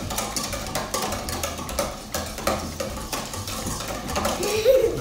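A whisk beats batter for a peach Melba Dutch baby pancake in a bowl, giving a steady run of quick scraping clinks against the sides, close and moderately loud, with a few stronger knocks.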